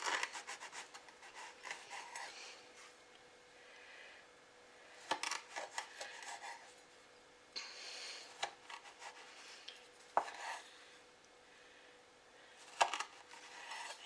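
A sharp knife slices rolled, sugared puff pastry palmiers into half-inch pieces, making faint, close scraping and crunching cuts in irregular bursts, each ending with a soft tap on the board. No one speaks.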